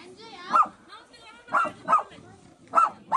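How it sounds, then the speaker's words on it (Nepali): A dog barks in Kudbidanda village in Kaski, near Pokhara, giving about five sharp, fairly close barks in irregular pairs while people talk nearby. "ए कुकुरले के भन्दैछ हामीलाई"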